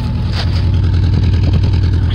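Saturn SW2 station wagon engine running steadily, a loud, continuous low rumble with no talking over it.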